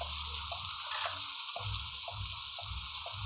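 Steady hiss of video game rain in Euro Truck Simulator with a low, pulsing thud repeating underneath, constant and close.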